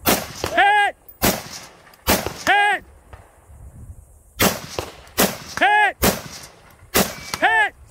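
Gunfire at a shooting range: about seven loud, sharp reports in irregular succession, each a hard crack followed by a brief ringing tail, with quiet gaps between shots.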